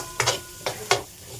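Spices such as dried coriander sizzle and crackle in hot oil in a home kitchen, with three short, bright bursts of spattering about a third of a second apart, close by and with no talk.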